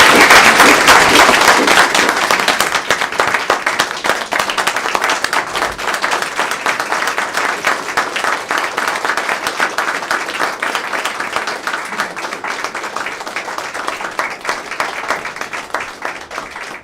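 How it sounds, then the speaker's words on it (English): Audience members at a county board of commissioners meeting give a sustained round of applause, dense and even at first, then gradually thinning and softening, with no talk over it. "I think they had a little round of applause."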